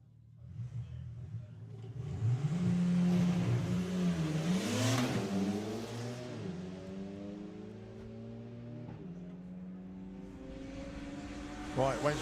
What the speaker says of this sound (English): this insanely quick VW golfer for Wayne Gill, dialing in 960, going alongside Michael Strachan, the Audi S3